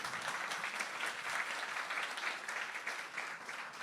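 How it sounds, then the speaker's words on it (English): An audience claps steadily through a round of applause at the official opening of the Melting Ice Sinking Cities exhibition, a dense, even patter of many hands held at a constant level from start to finish. "A round of applause for everybody."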